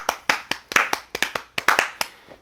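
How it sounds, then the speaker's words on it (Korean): A small group claps along in a quick, uneven burst of about a dozen sharp hand claps over two seconds, close and crisp, fading to a last faint clap, with no talking. "자, 일단은 박수를 한번 쳐봅시다"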